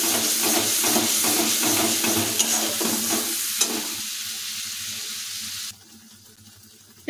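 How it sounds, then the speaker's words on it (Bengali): A thick masala paste for an Odisha-style rohu fish curry is stirred and scraped in a wok over a low gas flame, sizzling with a busy rhythm before the stirring stops and a quieter hiss remains. "এই পেস্টটাকে আমরা কড়াইয়ের উপর মিনিট ধরে এভাবে নাড়তে থাকবো।"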